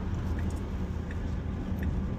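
A Tesla driving itself on Full Self-Driving as it exits the interstate, heard from inside the cabin as a steady low road and tire rumble with a soft engine-free hum, constant and unbroken throughout.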